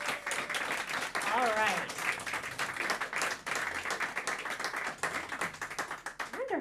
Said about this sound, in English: The applause keeps coming.